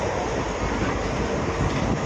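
A nearly empty passenger train runs at night, a steady loud rumbling roar of wheels and carriage noise heard from inside, broadband and continuous with no talking.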